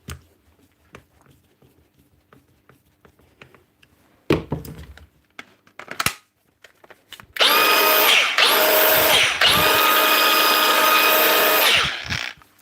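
A repaired angle grinder starts up after some clunks and handling noises, its motor whining loud and steady for several seconds with brief dips before spinning down.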